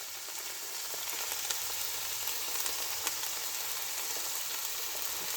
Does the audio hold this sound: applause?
no